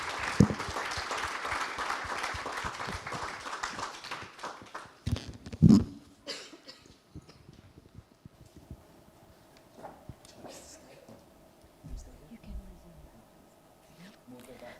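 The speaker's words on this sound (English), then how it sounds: "just want to ask for a big round of applause for everyone on the panel" An audience claps for a panel at a development-report launch, a moderate burst of applause that thins and fades within about six seconds, followed by quieter room sounds, shuffling and occasional speech.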